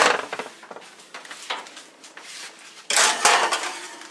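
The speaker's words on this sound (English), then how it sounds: "So into the oven it goes." A pie shell for blind baking, with no pie shield, goes into a kitchen oven, bringing a few light clatters of the pan and rack and then a louder thump and rattle as the oven door shuts.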